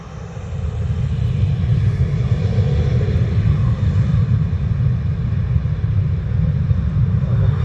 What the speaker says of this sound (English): There's a Ryanair landing in the background